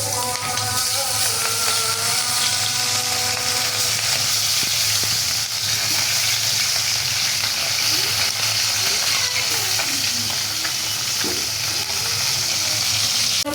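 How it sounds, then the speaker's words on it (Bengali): Tangra fish frying in hot oil, seasoned with salt and turmeric, giving a steady, loud sizzle and crackle that runs unbroken throughout, with faint clinks and spatters scattered through the hiss. "তেল গরম হয়ে গেছে, এখন ট্যাংরা মাছটি ভাজবো।"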